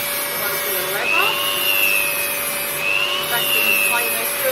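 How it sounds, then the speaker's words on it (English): Vacuum cleaner pulling away leather dust while a Dremel drill shaves leather, a steady close whooshing hum with the tool's high whine rising and falling in pitch throughout. "Vacuum cleaner's doing a pretty good job at taking a lot of dust away."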